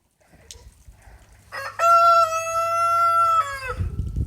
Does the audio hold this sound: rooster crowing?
yes